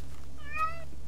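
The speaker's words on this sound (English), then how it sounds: "Would you shut up, cat?" A cat gives one short, close meow with a rising then falling pitch over a steady low background hum.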